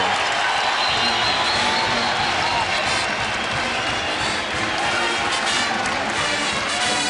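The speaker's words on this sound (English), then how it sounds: "listen to the crowd here at the Knapp Center." A basketball crowd at the Knapp Center fills the arena with loud, sustained cheering and applause during a timeout in a game against the Bulldogs, a dense wash of noise with no clear break.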